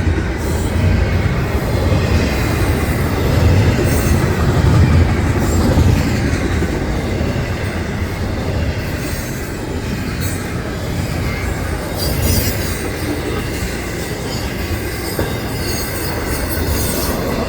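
A train rushes past nearby with a loud, continuous roar of wheels on rails, steady rumbling and occasional squeal, lasting well over fifteen seconds.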